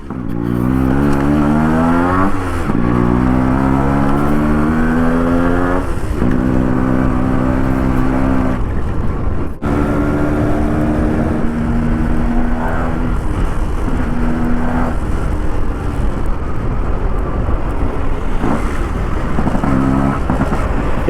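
A Yamaha RX135 two-stroke motorcycle on an open road, its engine revving hard and climbing through the gears in repeated rising sweeps, loud and close throughout with brief dips at each shift.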